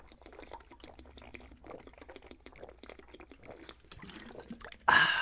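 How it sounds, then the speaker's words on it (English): Someone gets a drink of water indoors, with faint irregular liquid trickles and small clicks that end in a sudden louder splash or pour near the end. "I had a Rubio moment and just had to get water."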